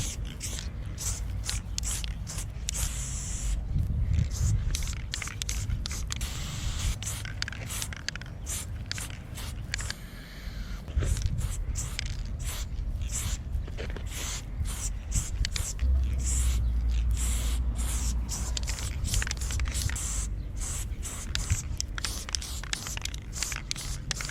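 Repeated hissing bursts of spray paint from a can fitted with a fat cap, short and rhythmic with brief pauses, close to the listener, alongside quiet scratchy sounds.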